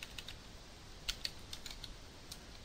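Quiet, sparse keystrokes on a computer keyboard as a command is entered into a software timeline, a few light taps with short pauses, faint and close, with no voices.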